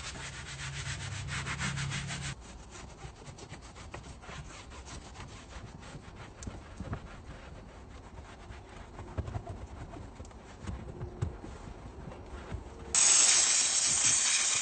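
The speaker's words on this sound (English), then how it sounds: "Using soft brushes, I loosen all the dirt hiding in the smallest crevices." Soft brushes scrub dirt out of the tight crevices of a Subaru's dashboard and air vents, giving a steady close-up rubbing and scratching that runs throughout, with a louder hissing burst near the end.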